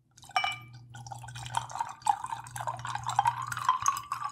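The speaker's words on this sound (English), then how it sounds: "I wanted to pour mine first because Paul put ice in his, and I didn't know if that would ruin the ASMR pour" Dry wine poured into a glass: a close, continuous gurgling trickle with bright dripping splashes that rises steadily as the glass fills, with no talking.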